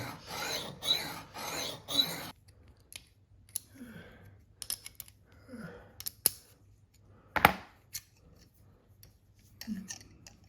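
A pair of scissors is sharpened like a single-bevel chisel on a diamond stone, with three or four loud rasping strokes at the start, then softer scrapes and clicks spread out with pauses.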